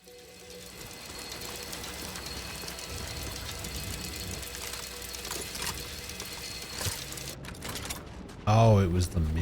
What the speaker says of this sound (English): Oh, it was the minigun.